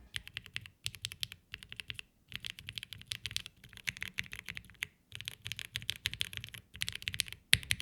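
Typing on a mechanical keyboard with deep, thonky switches: fast, close key clacks in bursts with short pauses between them.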